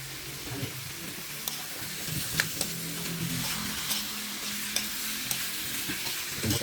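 Pork frying in a pan while cooking adobo, a steady loud sizzle throughout with occasional scraping and stirring clicks, close up, with no talking.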